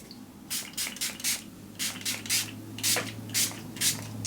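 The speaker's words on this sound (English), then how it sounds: "Which I think I'm just going to use this LA Girl setting spray." LA Girl setting spray misted onto a face, about ten short hissing bursts in an uneven rhythm, close and clear with no talking.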